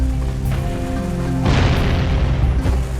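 In the Jak and Daxter video game, a bomb blows up with a deep booming burst halfway through, and a second blast follows near the end. Both ride over loud, continuous game music and rumble.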